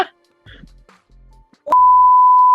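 A short burst of talk is cut off, then a loud, steady electronic censor beep tone holds for nearly a second.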